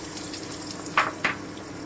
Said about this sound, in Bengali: এবারে আমি কুচনো পেঁয়াজটা দিয়ে দিচ্ছি।